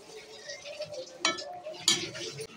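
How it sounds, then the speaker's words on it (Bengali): Spring onion leaves being stirred with turmeric, red chilli and mixed spice powders in a pan, a soft continuous scraping with a couple of louder utensil scrapes standing out. "এখন সব কিছু উপকরণ দিয়ে এভাবে নাড়াচাড়া করে নিব"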